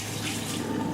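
A toilet flushing: a short, loud burst of rushing, gurgling water, close and continuous, with no voices over it.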